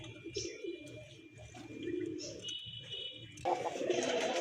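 Large pigeons cooing close by in a loft, soft repeated throaty coos layered over one another, with faint chirps and a rising burst of rustling near the end.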